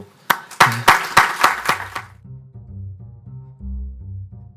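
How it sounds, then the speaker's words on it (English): A handful of distinct claps ring out at the end of a policy panel session, a brief, sparse burst that quickly stops and gives way to soft tonal outro music. "please give a round of applause"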